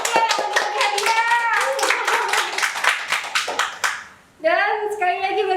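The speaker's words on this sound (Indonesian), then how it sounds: "tepuk tangan untuk panitia yang membagi hadiah" A crowd claps for a committee handing out prizes at an online millennials' event, steady close-up hand claps running for several seconds, fading briefly before a lone voice speaks over the end.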